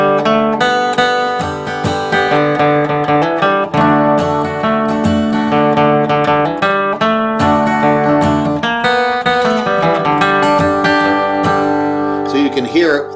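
Guitar in Carter-picking style, carrying the Tom Dooley melody on the bass strings and filling the gaps with strummed chords, a steady, loud and close passage with no voices.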